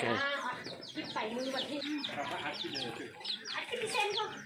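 Chickens clucking and calling on a small farm where ducks and fish are also kept, with several birds close by and a voice speaking over them throughout.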